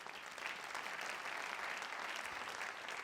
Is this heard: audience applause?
yes